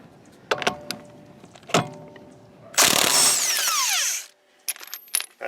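An impact wrench removes locking lug nuts from a car wheel during a rear camber kit install: a loud close burst of rapid hammering rattles for about a second and a half, with metallic clinks and taps before and after.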